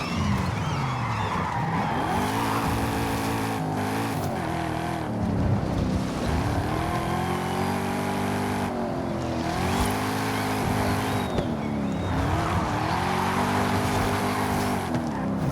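A Jaguar F-Type engine in a racing video game revs up and down repeatedly, pitch rising through gears and dropping on braking, steady and loud throughout.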